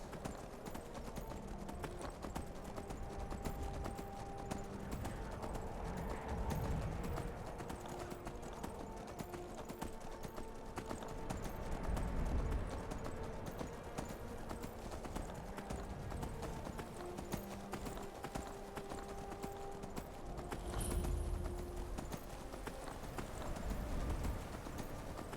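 Steady rhythmic hoofbeats of a video game horse galloping continue throughout, clip-clopping evenly over a faint ambient background with no talking, from The Elder Scrolls.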